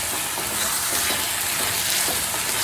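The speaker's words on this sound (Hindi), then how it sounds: "मटर को है ना मसाले में अच्छे से मिक्स करना है" Green peas being stirred into a sizzling masala for methi matar malai, a steady, loud frying hiss filling the whole stretch with soft scraping stir strokes underneath and no voices.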